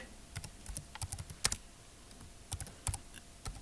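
Close, crisp computer keyboard clicks as text is entered into a word processor, coming in small irregular clusters of keystrokes with quiet gaps between them, no voices.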